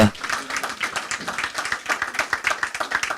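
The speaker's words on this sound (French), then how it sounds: "Je pense que vous pouvez applaudir cette initiative" An audience at a French conference on new products and future industries claps to applaud an initiative, a patter of many hands with distinct individual claps, fairly close and steady throughout.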